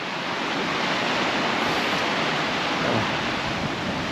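A river flows down from Offensee, between Almsee and Offensee, as a loud, unbroken rushing wash of water that stays constant throughout, with no voices.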